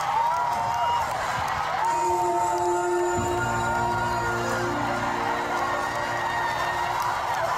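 Large concert crowd in the Philippines singing along and cheering, a dense, sustained wash of many voices with rising shouts and whoops, loud and enveloping throughout.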